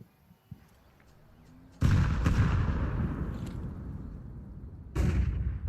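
A grenade explodes in Counter-Strike during a CS Asia Championships 2025 match: a sudden loud blast with a long rumbling tail, then a second sharp burst near the end, with faint background noise before it.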